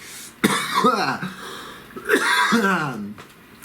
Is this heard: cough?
yes